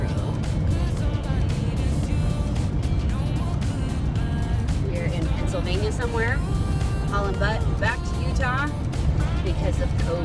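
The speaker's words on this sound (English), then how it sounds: "here we are, our inaugural voyage with our van" Near-constant road rumble and engine drone from a van on the road, with people chatting over it throughout.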